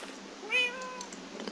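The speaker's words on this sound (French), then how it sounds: "C'est le chat de Jabu." A single cat meow from the Minecraft video game, a clear rising-then-falling tone that stands alone over faint background noise.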